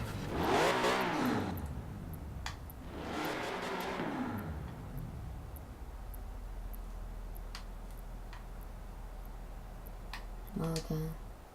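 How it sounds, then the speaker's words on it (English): A car's engine fires up and revs in the racing game Forza Horizon 4, with two swelling revs early on settling into a low idle rumble, accompanied by faint ticking clicks. "we just started the car"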